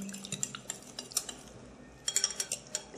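Börek filling with milk and vegetable oil being stirred in a bowl, giving a series of light clinking scrapes of a utensil against the dish, close and fairly quiet, with denser clatter toward the end.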